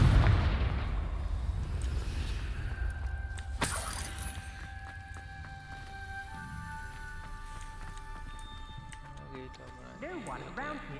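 A Confringo fire spell in Hogwarts Legacy blasts with a sharp, loud explosive burst partway through, then fades into lingering tonal game effects over a rumbling low background.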